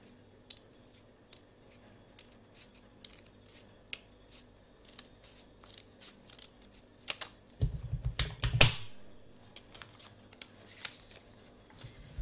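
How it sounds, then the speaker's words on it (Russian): Quiet soft clicks and faint rustling, then a short burst of crisp scissor snips cutting out a paper sole template up close, followed by light handling noises. "Берем ножницы и вырезаем."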